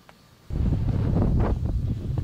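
Wind buffeting a microphone outdoors on the Colorado prairie, starting after a brief lull as a loud continuous low rumble with gusty surges, with no talk.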